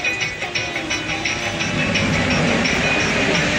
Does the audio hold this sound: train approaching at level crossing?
yes